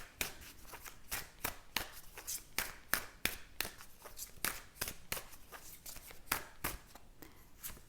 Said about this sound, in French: je vais tirer une dernière carte ici